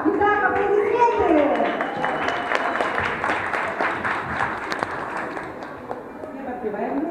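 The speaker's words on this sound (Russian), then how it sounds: "Итак, аплодисменты!" Audience applause at an annual republican tourism festival in Yakutsk, a dense, steady wash of clapping that holds for several seconds, with voices mixed in at the start.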